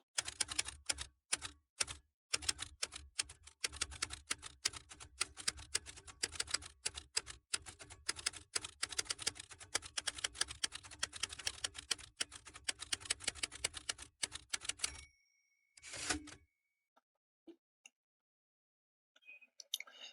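Rapid typing on a computer keyboard while working in Tally Prime, dense fast keystrokes clattering near the mic for about fifteen seconds, then a few scattered clicks in near silence.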